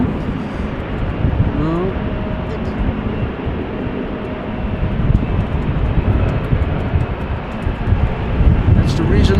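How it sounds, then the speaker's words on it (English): A business jet takes off from runway 22 at wet, windy Amsterdam Schiphol, a steady broad distant roar blended with wind rumble. Voices talk briefly over it. "Now the BizJet just took off from runway 22."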